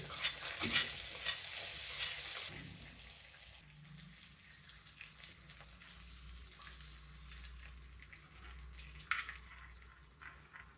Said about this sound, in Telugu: వీటిని ఉండ్రాళ్ళ పాయసంలో కలుపుకుందాం ఈ నెయ్యితో సహా కలిపేస్తున్నానండి